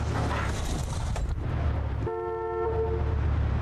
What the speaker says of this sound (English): Some honking at me, man.